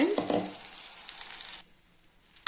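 Ground tomato-onion paste is poured into a hot pan for a bitter gourd gravy and bursts into a loud sizzle that hisses for over a second, then cuts off abruptly before a brief clink.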